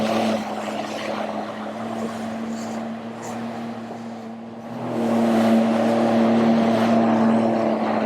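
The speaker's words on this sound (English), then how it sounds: "Great little boat this, it just loves the waves." A small motorboat's engine drones steadily with a humming tone and splashing water as it rides harbour waves at Mount Maunganui. The engine grows louder about halfway through.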